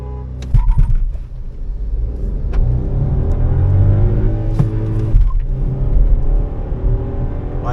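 A VW Virtus sedan with 115 bhp and a 172 bhp Mahindra Thar Roxx SUV launch side by side in a drag race, engines roaring loudly and rising in pitch as they accelerate hard, heard from inside a car.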